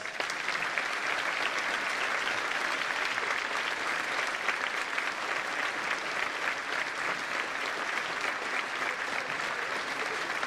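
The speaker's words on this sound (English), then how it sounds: "Let's give them a round of applause." Sustained applause from a large crowd at a school Veterans Day assembly, steady and dense clapping throughout without letting up.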